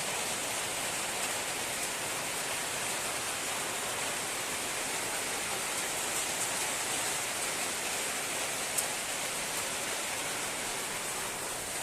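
Steady, dense hiss of heavy rain pouring down, constant and loud throughout with no pauses or voices.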